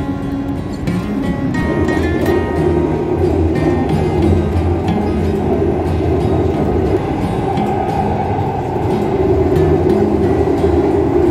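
A driverless Metro C train in Rome runs with a loud, steady rumble and a constant rolling hum inside the carriage, with no talking.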